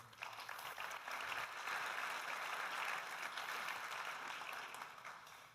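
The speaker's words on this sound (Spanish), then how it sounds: "Un aplauso para Llorenç." Audience at a round-table conference on antibiotic alternatives applauding a speaker, a steady wash of distant clapping that swells and then fades.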